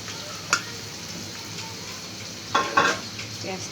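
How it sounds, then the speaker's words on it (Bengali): Chopped onions frying in a pan with whole dry spices for a mutton masala curry, a steady sizzle broken by a few sharp scrapes and knocks of a stirring utensil against the pan. "পেঁয়াজটাকে একটু ভেজে নেব।"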